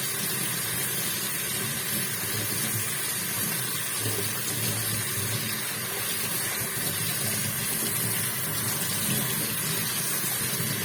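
A kitchen tap runs hard and steady, a loud, unbroken gush of water pouring out at full force for the whole stretch with no voices over it.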